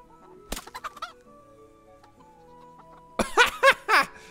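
A chicken clucks in short bursts in Minecraft, a brief run of clucks followed after a quiet pause by a louder, busier series of clucks.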